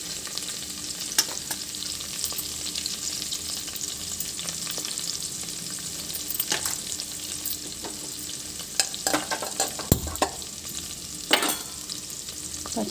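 Green chilli, ginger and garlic pieces frying in oil in a pan give a steady, close sizzle with occasional sharp crackles and pops, continuing alone without talk.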